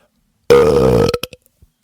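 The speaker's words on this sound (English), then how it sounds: "Taste my wet belch of the week." One loud, wet belch, close to the mic and lasting about half a second, trailing off into a few short gurgling pops.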